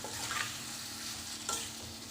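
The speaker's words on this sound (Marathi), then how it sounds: "जी कॅबेज कापून घेतलं होतं ते टाकूया आणि मिक्स करून घेऊया." Chopped cabbage tossed and stirred in a hot pan for a cabbage and peas sabzi, a steady frying sizzle with scraping stir strokes and a brief louder clatter near the end.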